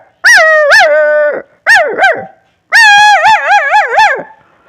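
A man imitates a dog in three loud, close bursts, wavering bark-like howls that end in a rapid run of yelping barks, with no other sounds.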